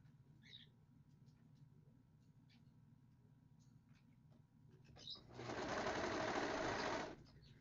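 A sewing machine stitching a quilted jacket, a fast steady mechanical whir running for about two seconds near the end after quieter handling and faint room noise.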